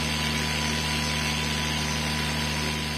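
A Nagawa NCG100 cordless grinder runs steadily at its lowest speed setting, a continuous even motor whine with a constant hum underneath, close and unbroken, with no talking.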